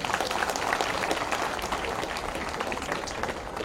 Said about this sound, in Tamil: பாடின அந்த பிள்ளைகளுக்கு ஒரு கைத்தட்டு கொடுக்கணும்